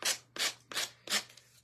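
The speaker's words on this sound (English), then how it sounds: "And we're going to be sanding" Sandpaper rubbing over a decoupage craft piece in four steady back-and-forth strokes, close and fairly loud, with no talking.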